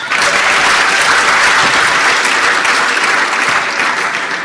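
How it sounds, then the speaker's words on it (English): An audience at an international conference gives a loud, continuous round of applause, dense clapping sustained at full strength from start to finish. "Please give him a round of applause."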